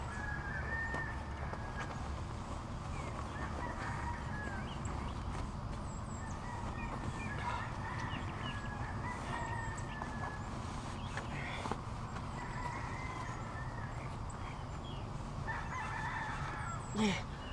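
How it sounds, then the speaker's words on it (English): Chickens cluck and a rooster crows several times over a steady outdoor rumble, the calls mid-distance and fairly clear. "Damn, chickens. Why so many of them?"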